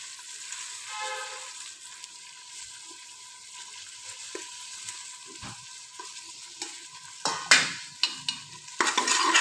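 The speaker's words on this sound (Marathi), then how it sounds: "छान याला मिक्स करून घ्यायचं आहे" A spoon stirs a mixed vegetable and pea biryani mixture in a pan over a low sizzle, with scraping strokes that grow louder and more frequent toward the end.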